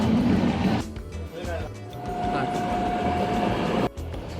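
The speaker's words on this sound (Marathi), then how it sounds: "मंगला लक्षद्वीप रेल्वेने आताच थोड्या वेळापूर्वी प्लॅटफॉर्म सोडलं आहे." Mangala Lakshadweep Express passenger train rolling along after leaving Ratnagiri station, a steady rumbling ride with a faint sustained tone, heard from inside the carriage with some voices in the background.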